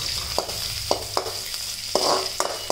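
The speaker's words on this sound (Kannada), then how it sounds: "ಬಾದಾಮಿ ಮತ್ತು ಗೋಡಂಬಿನ ಹಾಕಿ ಈಗ ಹುರಿತಾರೆ" Almonds and cashews roasting in a pan, a steady low sizzle broken by regular sharp taps and scrapes of a spatula, close and clear with no talking.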